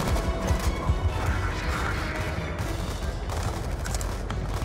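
Gunfire in the video game Call of Duty: Black Ops 2, a dense, continuous clatter of rapid shots and crashing impacts, loud and close, with no pauses across the few seconds.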